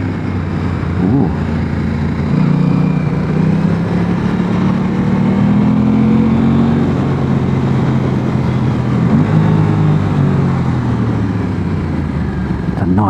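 An Aprilia Tuono 660 Factory motorcycle on twisty roads blips its throttle, the engine note rising and falling under loud, steady wind rush from riding.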